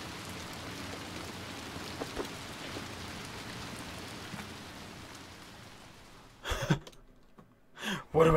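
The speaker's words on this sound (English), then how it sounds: "More rain." Steady rain from the video game Little Nightmares 2 fills the scene as a dense, even hiss, ending with a few brief louder bursts.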